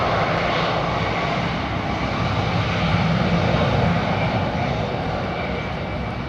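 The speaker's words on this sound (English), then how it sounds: "I'm going to grab this Dreamliner, folks." A Boeing 787 Dreamliner's jet engines roar at departure, a broad, loud and steady rumble that holds without letup across the whole stretch, with no clear talking.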